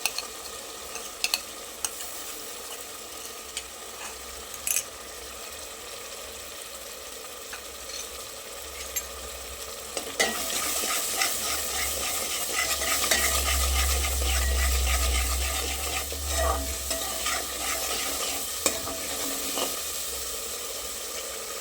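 Red chilli masala paste stirred and frying in a pan while cooking tindora and potato curry, a steady sizzle and scraping that grows louder and denser in the second half, with no talking.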